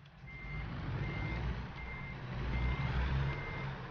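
Reversing alarm on a truck in the American Truck Simulator game, Oregon map: a steady series of about five evenly spaced electronic beeps over a low, continuous engine rumble, with no speech.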